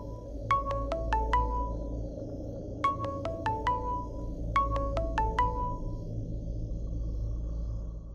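A phone ringtone plays three repeated bursts of quick melodic beeps, clear and fairly close, over a low background hum in an indoor domestic scene.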